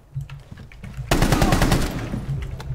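Rapid automatic gunfire from the video game Rainbow Six Siege bursts in loud and continuous after a quieter start, a dense rattling stream of shots with low rumble beneath.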